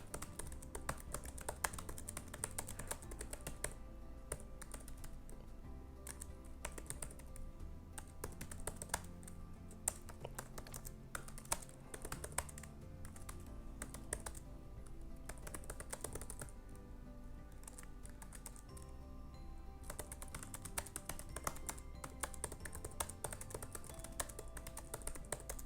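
Computer keyboard typing runs steadily and close throughout, a dense stream of quick key clicks with brief pauses, copying out a novel's text; no one speaks.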